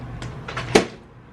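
A creaky chair lets out one short, strained creak indoors, close and clear, with faint quieter creaks just before it and no voice.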